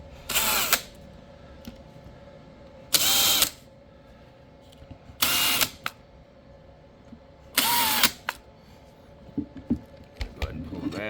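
A power drill with a 1/8" bit bores through a Harley speaker bag in four loud, sharp bursts spaced a couple of seconds apart, with small handling clicks and knocks between them.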